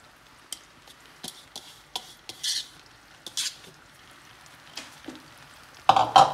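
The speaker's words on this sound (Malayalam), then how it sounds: "അപ്പോൾ നമുക്ക് ഇടാം നമ്മൾ വറുത്ത് വെച്ചിട്ടുള്ള തേങ്ങ" Roasted grated coconut is stirred into soft-ball jaggery syrup in a pan for kamarkattu, a sweet. A spoon scrapes and taps against the pan in short, irregular strokes, ending with a louder clatter, and no one speaks.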